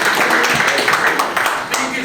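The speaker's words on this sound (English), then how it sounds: "Let's get a big round of applause for her." An audience at a police precinct ceremony gives a round of applause: dense, steady clapping close by for about two seconds, with some voices mixed in.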